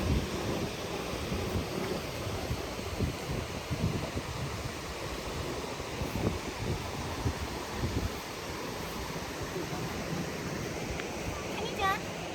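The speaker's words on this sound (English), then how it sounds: "I feel really refreshed just hearing the voice of water falling" Steady broadband rush of a waterfall in Burmese countryside, continuous and fairly loud throughout, with light wind texture mixed in and no talk over it.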